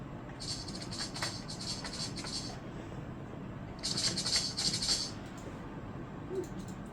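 Two bursts of dry rhythmic rattling maraca shakes, a sound effect played from a Microsoft Natural Keyboard, crisp and close, separated by a pause, with a soft hiss underneath.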